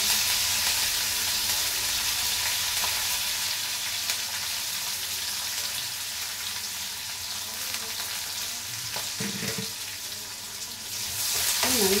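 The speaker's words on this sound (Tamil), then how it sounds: "காஞ்ச மிளகாய் போட்டு வெங்காயம் கருவேப்பிலையும் இதில் போட்டுறேன்" Dried red chillies, onion and curry leaves fry in hot oil, a steady close sizzle running throughout with a brief stir and scrape of the pan near the end.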